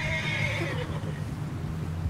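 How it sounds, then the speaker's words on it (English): A horse in Red Dead Redemption 2 gives a loud, high whinny that trails off after about a second, followed by low rumbling and faint hoof movement. "Horse sounds pissed."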